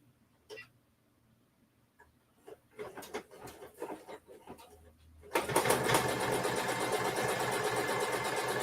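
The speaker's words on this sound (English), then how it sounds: "it's doing a decorative stitch over the top of that satin stitch" An embroidery machine stitching a decorative stitch over satin stitching on an in-the-hoop project with bling. A few scattered clicks give way to a loud, steady, fast mechanical whirring that runs to the end.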